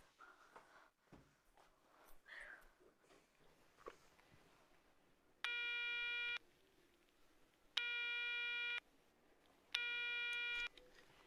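A room telephone calls hotel reception and goes unanswered, with three loud, evenly spaced electronic ring bursts of about a second each following quiet room noise and faint handling sounds.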